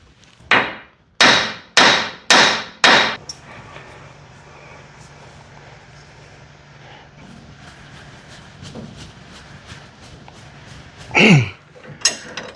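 Five loud, evenly spaced hammer blows ring out in quick succession during shock replacement on a Nissan Armada, followed by a low mechanical rattle and one more heavy knock near the end.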